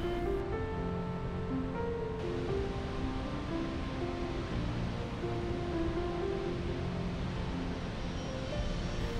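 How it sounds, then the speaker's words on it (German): Steady, loud broadband rush of the Krimml waterfall and river in the Austrian Alps, heard close by as a continuous roar with no breaks or voices. "komme ein Stück dem Fluss entlang in Richtung Wasserfall"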